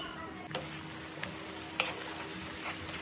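Dry red chillies, salt, curry leaves and onions sizzle in hot oil in a frying pan, while a spoon scrapes and stirs with a few soft clicks against the pan. Close and fairly quiet.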